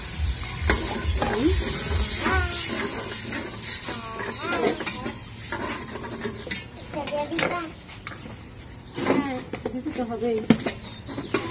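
Khichuri being stirred in a pan as it cooks, with scraping stirs and a soft sizzle of frying running throughout, close and fairly loud, while birds and voices sound in the background.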